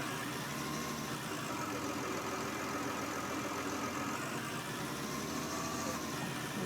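A tractor engine idles steadily in the Farming Simulator 19 video game, a constant low mechanical drone with no changes in pitch, heard alone with no talking.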